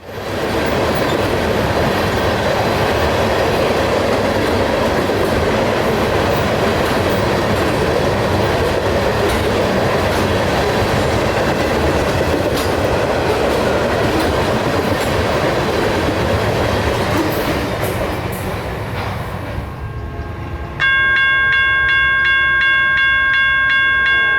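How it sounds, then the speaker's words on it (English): A Florida train speeds past at close range with a loud, continuous roar of rumbling wheels and rail noise that fades near the end and gives way to a quieter, steady tone. "the train speeds away from you at a jillion miles an hour"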